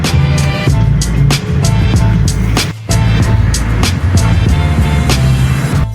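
A pick-up truck engine drones loud and close while driving, a steady low rumble with road noise and a brief dip near the middle, no talk over it.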